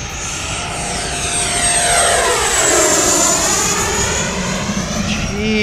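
Electric RC airplane on an 8s setup flying a fast knife-edge pass down the runway, a high whining motor that swells as it approaches and falls in pitch as it passes, loud and close, with a brief voice near the end.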